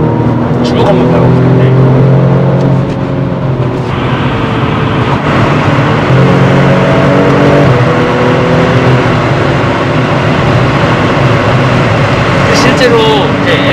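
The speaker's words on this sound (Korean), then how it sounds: "M2 모델에 비했을 때는 배기 사운드가 좀 마일드한 편이긴 해요" BMW M235i xDrive Gran Coupe with a mild exhaust note, heard while driving hard: steady engine drone and rising, falling revs with gear changes, constant and fairly loud, under talk from occupants.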